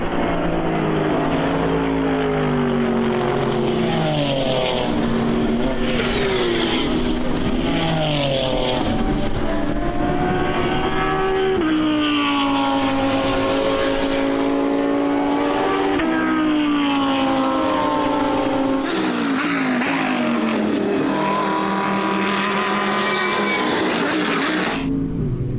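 GT race cars, among them a Lotus, race at BalatonPark during an ESET Cup 2024 race. Loud, continuous engine roar rises and falls through gear changes as cars pass close by, with several engines overlapping.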